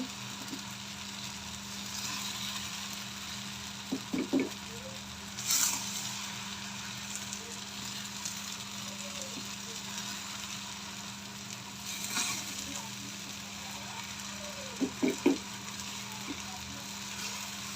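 Rice and lentils frying in a pot for khichuri make a soft, steady sizzle with a low electrical hum, broken by a few brief scraping and clattering stirs; a voice speaks faintly at times.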